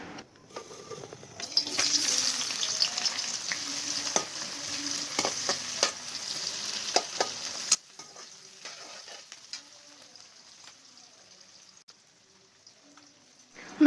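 Oil heats in a hot kadhai, giving a strong close sizzle and crackle with sharp clicks for several seconds. It then drops to a much quieter, sparse hiss with occasional ticks.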